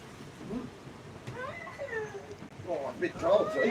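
A cat meows a few times close by, soft and drawn out, amid a noisy background with a faint voice.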